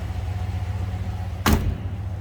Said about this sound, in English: that door shuts and fits